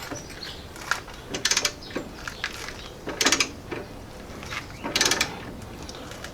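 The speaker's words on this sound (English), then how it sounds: "Remember, I'm using a short ratchet here." Short ratchet working during a front-end ball joint install without a tapered press, bursts of quick clicking repeating in several bursts, close and fairly quiet.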